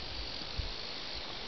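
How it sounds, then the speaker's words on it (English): Late-night grasshopper chorus on a warm late-summer evening in the countryside, a continuous dense high-pitched chirring with no breaks, steady and moderately close. "late night grasshopper choir, when it's already dark outside but still warm, and they just keep on going"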